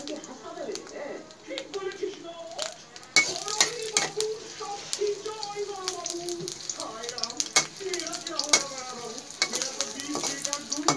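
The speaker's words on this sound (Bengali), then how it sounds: "আমরা পেঁয়াজটা দিয়ে দিলাম তেলে এবং আস্তে আস্তে করে ভাজতে শুরু করলাম" Chopped onions fry in soybean oil in a wok, a steady close sizzle with spatula scrapes and clinks on the metal, while a person talks over the cooking.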